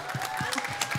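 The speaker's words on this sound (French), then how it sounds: "C'est elle qu'on applaudit, c'est elle qu'on applaudit." A live audience at a comedy show applauds, a scattered clapping wash under an ongoing voice, with an intermittent tone and a few louder claps standing out.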